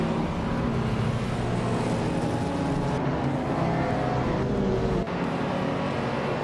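Race cars roaring off the start in a video game, a 1995 Ford Escort RS Cosworth among them, dense loud engine noise with shifting revving tones and abrupt changes in the mix.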